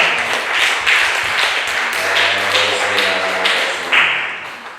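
Church congregation at a Sunday service applauding to welcome a visiting friend seated upstairs, a steady wash of many hands clapping at moderate distance with a low hum beneath, sustained throughout.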